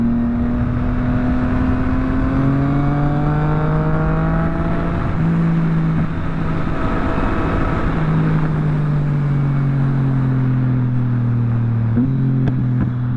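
A Yamaha MT-09 motorcycle on the road revs up loud and close, its engine note rising through gears with steady wind rush behind it.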